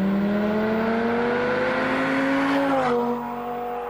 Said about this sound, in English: the sound of the Lamborghini is particularly successful. You can really feel the 10 cylinders